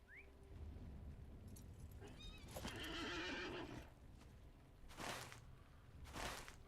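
A horse in the Lord of the Rings Online video game gives a loud whinny in the middle of the clip, followed by a couple of shorter snorting bursts. Faint hoof clops sound in between.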